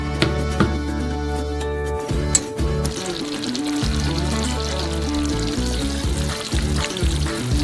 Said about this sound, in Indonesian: Rebus karamel selama kurang lebih 10 menit